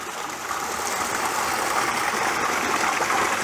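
A natural spring in Chechnya flows down like a small waterfall with a steady, close, full rush of water that builds slightly and continues unbroken.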